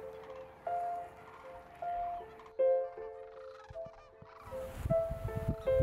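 Sandhill cranes give loud rattling, trumpeting calls in several separate bursts that overlap toward the end, with rustling and scuffing beneath.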